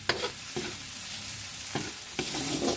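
A spoon scrapes through chopped ingredients sizzling in a pan while cooking sautéed bottle gourd, with a few distinct stirring strokes over a steady frying hiss.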